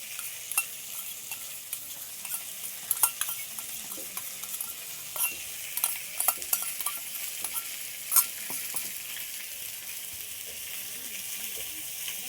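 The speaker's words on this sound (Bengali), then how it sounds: "টক দইটা ভালো করে একটু ফেটিয়ে নেব" Sour yogurt is whisked in a small bowl for a ripe-mango chicken curry, giving soft, faint scraping and swishing strokes with a few sharper clinks against the bowl, alone in a quiet kitchen.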